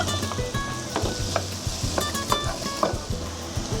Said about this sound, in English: Here I'll add the onions.